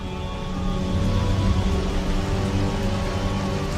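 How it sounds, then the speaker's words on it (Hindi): Steady rain pouring down from the sky, a dense, even wash of hiss with no break, loud and close throughout, with no voices. "देखो, मैं आसमान से बारिश बरसाकर तुम्हें रिज़्क देता हूं।"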